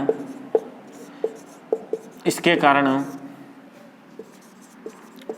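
Chalk or marker taps and strokes on a board in a class on soil chemistry, coming as a run of short, sharp knocks. A voice speaks briefly in the middle.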